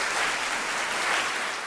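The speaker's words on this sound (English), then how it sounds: "Ladies and gentlemen, a big round of applause for Nitin Padlekar." An audience at a Pecha Kucha presentation evening in Mumbai applauds a presenter, giving a short burst of dense, even clapping.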